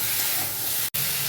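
Taro (kochu) pieces fry in a pan with a loud, close, continuous sizzling hiss that cuts off abruptly for a split second near the end.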